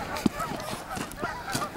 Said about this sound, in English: Filming the geese.